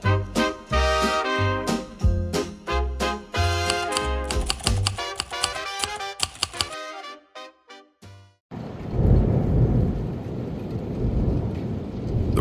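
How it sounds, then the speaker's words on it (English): Rain drums steadily on a window and thunder rumbles in a detective-style audio drama. Earlier there is a musical, typewriter-like stretch, then a dense, loud wash of rain takes over the second half. "The rain was working overtime on the window, drumming out a beat like it was warning me something big was coming."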